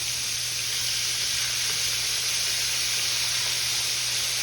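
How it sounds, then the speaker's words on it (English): Shrimp sizzling in a pan as they fry golden brown, a loud, dense, continuous hiss and spatter held steady from start to finish, up close and alone. "we're gonna turn these shrimp over"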